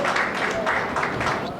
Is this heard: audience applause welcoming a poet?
yes